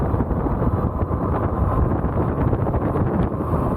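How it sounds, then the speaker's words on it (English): A strong headwind roars against the rider of an Ariel Rider Kepler e-bike, a dense, steady rumble of wind buffeting the microphone with no break. "Yeah, I'm not liking this wind. We're in a strong headwind right now."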